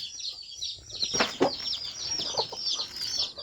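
Chickens cluck around a rural farm hut, with soft, repeated clucks and chirpy calls close by and light scuffling underneath.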